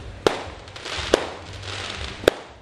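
Fireworks going off at night near Patong Beach, three sharp separate bangs spaced about a second apart over a low crowd murmur, moderately distant.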